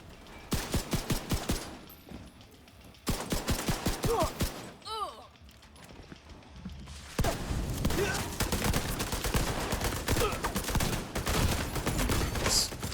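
Shotgun blasts and rapid gunfire ring out in a video game shooter, dense repeated bursts in loud stretches broken by brief quieter gaps with game effects.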